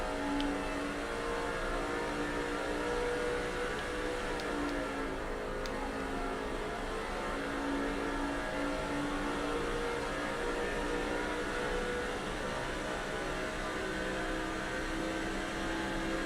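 Race car engines in NASCAR 06 at the Brickyard 400 give a steady, droning roar, several cars running together at constant speed with a sustained whine.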